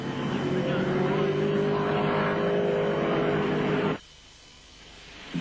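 Touring cars racing through a right-hand corner at the 1981 City of Melbourne Touring Car Trophy, engines droning loudly with rising pitch for about four seconds before cutting off abruptly, with commentary likely over them.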